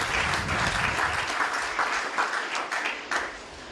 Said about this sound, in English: Could we give the HLSCC Graduation another round of applause,